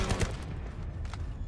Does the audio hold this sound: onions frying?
no